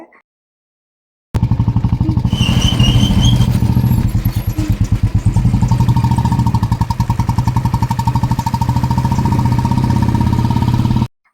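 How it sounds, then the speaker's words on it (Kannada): A motorbike rides along with a steady, close engine drone and rapid rhythmic pulsing, loud and continuous for about ten seconds after a brief silent start, with no talking. "ಅದಕ್ಕೆ ಹೋಗ್ತಾ ಇದ್ದೀವಿ ಬೈಕಲ್ಲಿ"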